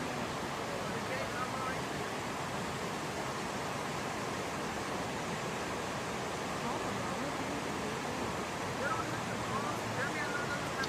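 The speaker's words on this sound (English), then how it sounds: "Now the water is just pouring in" Flood water pours in during a Kerr County flood, a continuous broad rushing wash that stays steady and moderately loud for around ten seconds.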